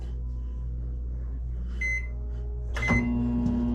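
An RV microwave oven hums steadily, then a loud beep sounds and the motor tone rises as it starts running.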